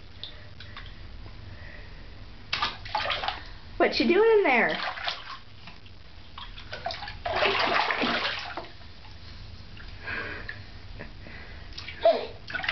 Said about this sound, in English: Oh, you splashing? Getting your hair wet?